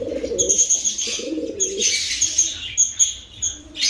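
A dark checkered breeder pigeon hen coos nearby in low throaty bursts, joined by sharper high chirps and a brief flutter of wings. No voices are heard.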